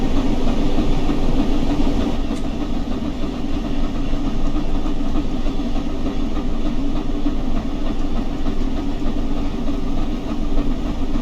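The Flying Scotsman steam locomotive runs on the rails, giving a loud, continuous rumbling roar with steady rail clatter and vibration, heard close and unbroken for several seconds.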